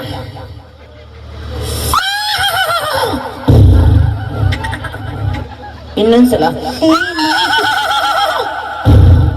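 A horse neighs loudly twice in long, shaky whinnies, with people chatting and laughing nearby between the calls.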